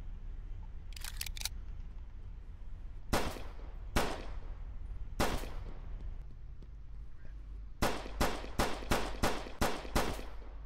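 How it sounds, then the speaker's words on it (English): Gunfire aimed at a car's tires in the police game Flashing Lights: a few quick cracks early on, single loud shots near three, four and five seconds, then a rapid string of six or seven sharp reports over steady engine rumble. "we're just gonna go ahead and shoot the tires out"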